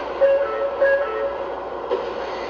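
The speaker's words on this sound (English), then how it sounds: "The Amtrak acela is now departing" A steady model train rumble with faint clattering and a few thin tonal squeals, close and fairly loud, no talking, as an Amtrak Acela model departs.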